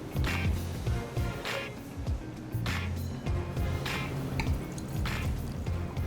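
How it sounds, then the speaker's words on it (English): Penfolds Bin 2 Shiraz/Mataro 2013 red wine poured from a decanter into glasses, a series of about five short gurgling pours with soft clinks between them, close and clear. "Toni, would you mind pouring for us all, please?"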